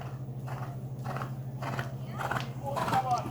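A horse gallops around an arena during equestrian riding training, its rhythmic hoofbeats thudding at a steady pace, fairly faint beneath a trainer's spoken instructions.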